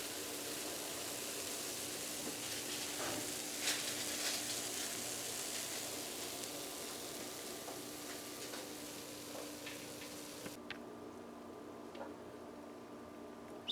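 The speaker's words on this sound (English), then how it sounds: "You hear the sizzle?" Guyanese cheese straws sizzle steadily as they bake, a dense, even hiss of crackling fat with faint scattered pops that carries on without pause.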